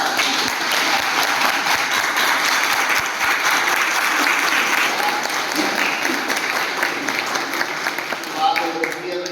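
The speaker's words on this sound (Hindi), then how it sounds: "सबके लिए एक बार जोरदार तालियां चाहेंगे।" Sustained, loud applause from an audience, dense clapping that continues steadily and thins slightly toward the end, with a voice faintly underneath.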